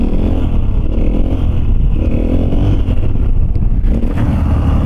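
A Husqvarna FE450 dirt bike revs hard through a wheelie, loud close engine roar rising and falling in pitch as throttle is worked, with gritty clatter and wind buffeting throughout.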